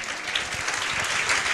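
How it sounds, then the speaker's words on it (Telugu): A church congregation claps together in worship, a dense, steady burst of many hands sustained at an even loudness from start to finish with no voices standing out. "చప్పట్లు కొడదాం"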